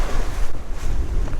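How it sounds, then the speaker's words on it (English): Wind buffets the microphone with a loud, rumbling roar, mixed with the wash of waves at sea aboard a small boat off Great Harbour Cay, Bahamas. "The wind has picked up."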